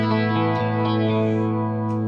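A sustained, shimmering electric guitar chord with a fairly clean tone and a lush chorus effect, ringing steadily and fairly loud with no other sounds.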